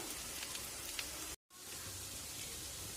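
Onion dropped into hot oil in a frying pan while making potato and flour patties, giving a steady broadband sizzle that cuts out briefly and then resumes, close and continuous.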